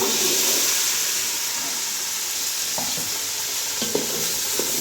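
Small shallots sautéing in a pan on a home stove, a steady close sizzle and hiss of frying with a few soft clinks of stirring near the end.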